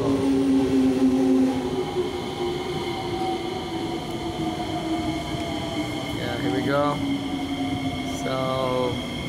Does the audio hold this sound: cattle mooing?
no